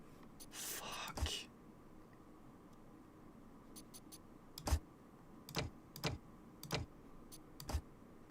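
Keyboard keys pressed during a strategy video game, sharp isolated clicks at irregular intervals, several close together near the end, over a quiet background with game noise.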